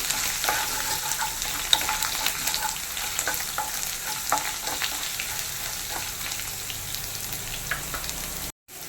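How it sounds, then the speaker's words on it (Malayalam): Ginger, garlic and green chilies frying in oil for a potato fry masala, a dense continuous crackling sizzle with light stirring, close and fairly loud, cutting out briefly near the end. "ഇഞ്ചി വെളുത്തുള്ളിയൊക്കെ നല്ലപോലെ ഒന്ന് ഫ്രൈ ആവണേ"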